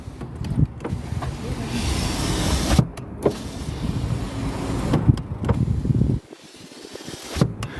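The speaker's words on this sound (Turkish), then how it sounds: "Camların açılırken çıkarttığı sesi duyuyor mu dayı?" A Renault Laguna's power windows whir open with a steady electric motor hum, punctuated by a few soft clicks and thumps, nearby and clear.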